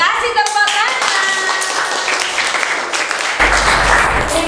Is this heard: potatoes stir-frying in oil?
no